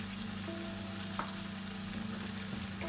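Rice with salt and pepper stir-fried in a granite wok, a steady close sizzle with soft scraping as the grains are turned, no talking.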